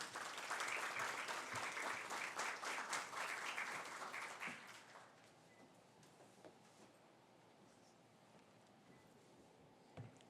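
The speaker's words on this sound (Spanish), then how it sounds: "Démosle un fuerte aplauso a José Aquino" Conference audience applauding a speaker, a steady wash of clapping for about five seconds that then dies away into a quiet hall with faint room noise.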